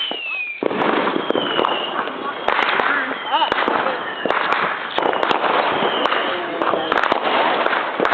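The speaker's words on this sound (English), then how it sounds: "I'm going to light off fireworks, just so you know." Fireworks crackle and pop continuously, with sharp bursts and whistling streaks layered over a dense, noisy barrage throughout.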